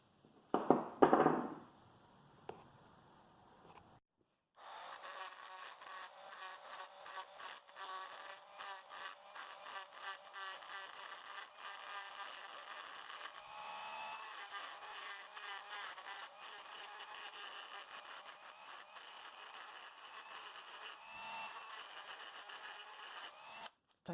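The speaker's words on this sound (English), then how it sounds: "Need to take a little bit of material out underneath the hood for that tire to spin properly. For that, I'm going to use the Dremel tool." A Dremel rotary tool grinds material from beneath the hood of a 1:64 diecast car, a steady high-pitched buzzing whine that runs continuously for about twenty seconds after a few brief clinks and a short pause, with no talk.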